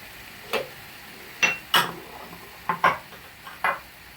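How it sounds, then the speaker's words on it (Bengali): Marinated chicken pieces are dropped one by one into a hot frying pan, giving six short, separate plops and sizzles spaced over a few seconds against a quiet background. "এবার আমি এর মধ্যে এখন রেখেছিলাম সেই মাংসটা দিই"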